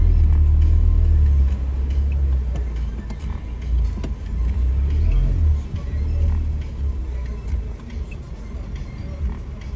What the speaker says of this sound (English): we are in a smart car, convertible, driving through